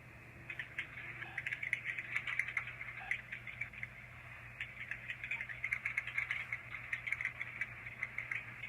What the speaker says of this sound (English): I'm just typing everything you told me, sir.